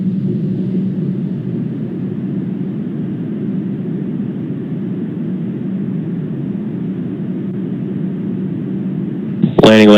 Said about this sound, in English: Stage 1 landing burn is started.